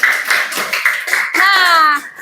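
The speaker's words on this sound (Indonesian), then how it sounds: "tepuk tangan untuk Lida" A classroom of schoolchildren claps for a student, a short burst of scattered hand claps. A brief chanted or sung voice rises over the clapping near the end before it stops.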